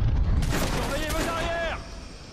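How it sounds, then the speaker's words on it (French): Gunfire in the video game Watch Dogs, a burst of low booming shots near the start, followed by a rising electronic whine, loud over game background noise. "On tire dessus."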